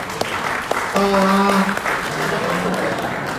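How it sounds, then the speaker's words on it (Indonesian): Applause from a seminar audience, steady and moderate, with a short sustained tone partway through and a voice heard in the mix. "Tepuk tangan dong"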